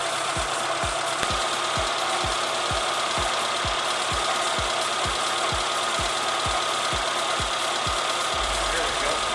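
A Suzuki Samurai engine idles while warming up, a close, even chugging with regular knocking pulses throughout that shift lower just before the end.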